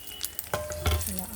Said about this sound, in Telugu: కరివేపాకు నా దగ్గర లేదు, కరివేపాకు కూడా వేయించేస్తాను.